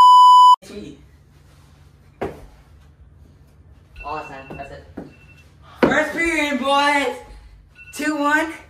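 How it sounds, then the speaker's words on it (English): A game timer gives a loud electronic beep at the start of a mini stick hockey finals game. People in the room then talk and laugh over a low background hum. "Turn off the timer."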